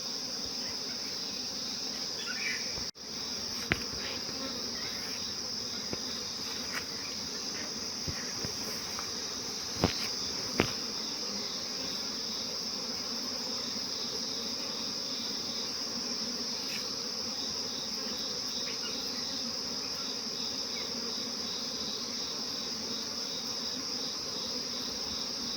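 Honey bees at beekeeping boxes make a steady, continuous buzzing drone that runs unbroken for the whole stretch, with only a few faint clicks over it.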